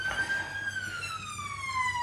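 Emergency vehicle siren in a London town street, a single long tone gliding slowly downward with rich harmonics, moderately distant and steady over low traffic rumble.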